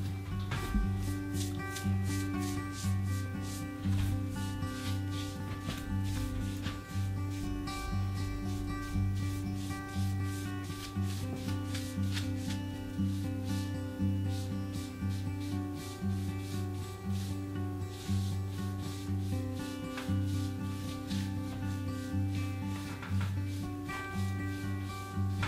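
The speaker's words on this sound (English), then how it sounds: "You take a blue shop towel and wipe off the excess and let it dry." A shop towel rubs back and forth over a finished wooden farm table in steady, close, rhythmic strokes, wiping off excess finish without any talking.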